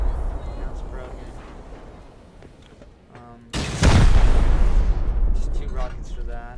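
Rocket blasts breaking into a base in the survival game Rust: a sudden loud boom with a long rumbling tail after quieter game ambience, while someone talks over it.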